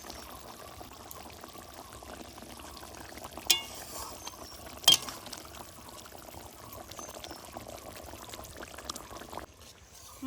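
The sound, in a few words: mustard bhola fish curry gravy bubbling as it boils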